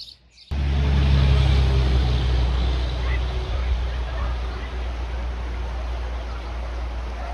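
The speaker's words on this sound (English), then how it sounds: "Sorry for the truck noise." A truck passes near a bridge on the Appalachian Trail, giving a loud, steady low rumble that starts abruptly and fills the whole stretch, with wind and outdoor noise mixed in.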